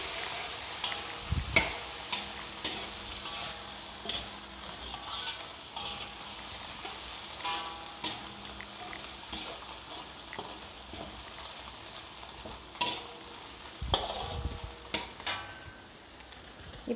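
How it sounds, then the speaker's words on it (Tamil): Rice noodles for bihun goreng stirred in a frying pan after salt goes in, a constant hissing fry broken by occasional scraping and knocking of the utensil against the pan, close with no voice. "உப்பு சேர்த்து நல்லா கிண்டி விட்டுக்கலாம்"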